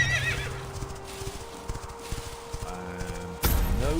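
A horse in the video game Quinfall neighs and whinnies, then its hooves clip-clop in an uneven rhythm before a second loud whinny near the end, close and clear with no talking.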